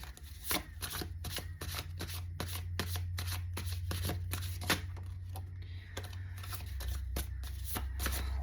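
Animal oracle cards are shuffled by hand in a run of quick, crisp riffles and soft slaps, repeating close and steady over a low background hum, with no one talking.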